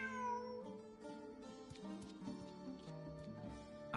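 A cat in the video game Genshin Impact meows in a few short plaintive calls over soft game background music, moderately quiet and alone.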